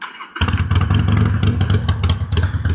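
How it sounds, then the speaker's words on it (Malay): A motorcycle engine fitted with an aftermarket Chinese exhaust starts abruptly and idles loudly nearby with a rough, rumbling, popping exhaust note that fluctuates slightly. "Sebelum tu kita dengar dulu bunyi motor ni"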